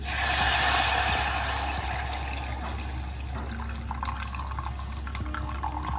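Milk mixed with water pours steadily into a pan, a continuous trickling splash that is strongest at the start and then settles into a softer, even flow.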